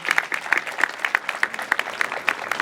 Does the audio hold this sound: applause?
yes